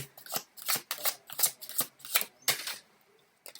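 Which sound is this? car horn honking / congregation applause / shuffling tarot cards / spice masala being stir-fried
shuffling tarot cards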